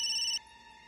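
A phone ringtone sounds loudly and steadily with a bright electronic tone, then cuts off abruptly partway through.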